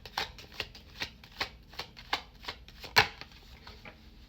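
Tarot cards are shuffled in quick, crisp riffles, with about a dozen distinct papery flicks in an even rhythm and one louder snap near the end, close and clear without talk.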